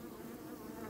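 A steady, dense drone of many honeybees buzzing close by at a hive, constant and uninterrupted.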